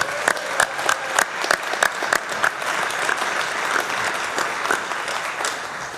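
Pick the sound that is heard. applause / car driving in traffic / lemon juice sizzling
applause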